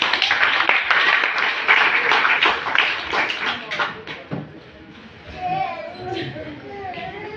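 An audience at a sermon claps in a burst of loud applause that fades after a few seconds, and a voice keeps talking over the end.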